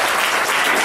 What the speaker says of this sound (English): I think we should give them all another round of applause